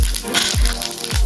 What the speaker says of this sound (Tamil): எண்ணெய் காஞ்சிட்டதுக்கு நம்ம சீரகம் சேர்த்துக்கணும்.